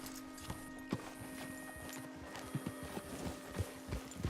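Horse hooves clip-clopping in Red Dead Redemption 2, an irregular string of close, crisp hoof strikes over a steady hum of game background, with no talk.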